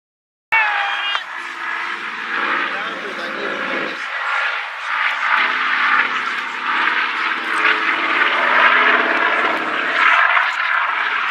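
Caribou tactical military airlifter at the Hunter Valley airshow, with a steady loud propeller engine drone filling the whole stretch while an announcer talks over it through the PA.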